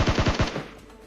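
Rapid automatic gunfire from a gun in PUBG Mobile, about five fast shots in a tight burst that trails off into a short fading tail, loud and without talk.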